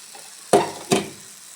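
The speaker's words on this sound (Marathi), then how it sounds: "तव्याला मी आता तेल लावून घेतलेलं आहे आणि थोडंसं पीठ आहे यामध्ये ओतून घ्यायचं आपल्याला." Sour fermented dosa batter is poured onto an oiled griddle, giving two sharp, close sizzling bursts a moment apart that each fade quickly into quiet.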